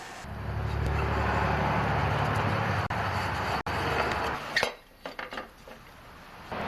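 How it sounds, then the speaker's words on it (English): Muffler bolts come off a Craftsman 5.5 hp lawnmower engine: a loud, steady whirring grind runs for several seconds with two brief dropouts, then gives way to a few close metallic clinks and taps. "start by removing the muffler here and then the two bolts"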